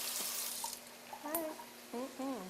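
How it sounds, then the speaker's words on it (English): Hands are rinsed under a running kitchen tap while cooking shrimp and grits, a soft hiss of water that fades as voices chatter nearby. "I'm gonna just rinse my hands off quick here."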